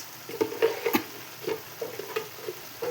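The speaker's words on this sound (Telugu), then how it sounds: "అల్లం వేస్తున్నాను ఫ్రెండ్స్" Ginger stirred into chicken or mutton liver frying in a pan, close sizzling under several short scraping stirs and clicks of the spoon, no voices.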